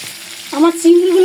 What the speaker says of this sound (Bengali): চিংড়ি মাছগুলো আগে একটু ভাজে নিতে হবে, লবণ হলুদ দিয়ে মাছগুলো একটু মাখায় নিব।